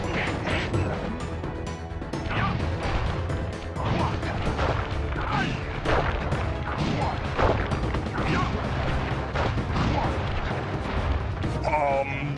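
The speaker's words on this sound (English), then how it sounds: "I will send you to your doom with the beauty of my new firework technique" Firework attack explosions from the PS3 video game Sly Cooper and the Thievius Raccoonus, a dense run of crashing, booming blasts over continuous game music, with a voice speaking intermittently throughout.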